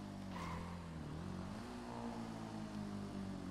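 A motorcycle engine idles in GTA 5, a quiet, steady, low drone whose pitch rises slightly partway through without a strong rev.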